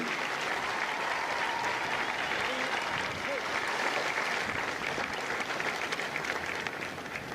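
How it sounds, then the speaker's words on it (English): Steady, sustained applause from a large crowd at a Marine Corps recruit graduation ceremony at MCRD San Diego, dense and even throughout, heard from a distance. "Please join me in a round of applause for the company staff of Kilo Company."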